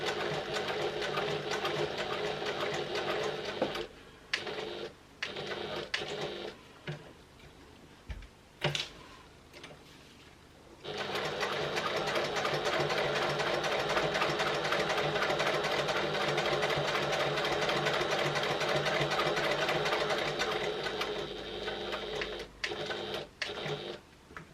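A sewing machine topstitches a clutch wallet in long steady runs broken by short pauses. The mechanical whir is close and continuous, with brief stops and restarts and no talking.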